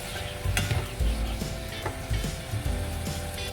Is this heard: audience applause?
no